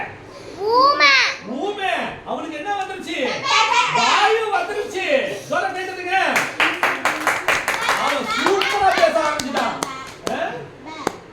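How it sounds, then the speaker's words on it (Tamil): A church congregation claps along with a crowd of excited voices, children and adults calling out, the scattered hand claps growing denser and louder in the second half over continuous chatter. "சரிங்களா ஜோர கை தட்டுங்க"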